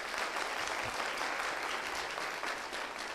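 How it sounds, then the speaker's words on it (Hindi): A studio audience of students at an educational talk show gives soft, steady applause that fills the whole moment, fairly distant and with no talk over it. "चलिए पहले सवाल के लिए पहले ताली बजा देते हैं।"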